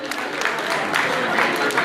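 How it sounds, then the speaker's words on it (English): Brief applause from a keynote audience in Gauteng, South Africa, a steady patter of clapping hands at moderate level, blended with crowd murmur and voices throughout. "Give him a round of applause."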